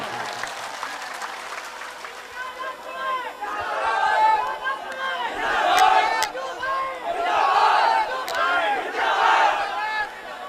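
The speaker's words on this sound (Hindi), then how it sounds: "एक बार आगे से पीछे तक जोरदार ताली बजा के उनका इस्तकबाल कीजिए।" A large crowd at a political victory celebration in Kishanganj, Bihar claps loudly and cheers, the applause swelling in waves with shouts rising over it for about ten seconds.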